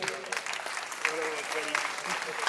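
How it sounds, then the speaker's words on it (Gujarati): An audience claps steadily at a family community gathering on a stage, a dense patter of applause running under a voice speaking throughout. "સાગરભાઈ અને એમના મામા માટે જોરદાર તાળી થાય ભાઈ."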